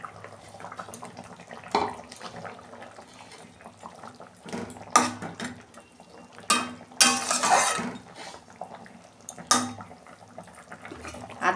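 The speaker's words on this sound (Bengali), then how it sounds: "এই যে মাছ দিয়ে দিচ্ছি।" Fish pieces go into a simmering curry pot of potatoes and vegetables with several splashy, sloshing bursts and light clinks of metal, loudest near the middle, against a low kitchen hum.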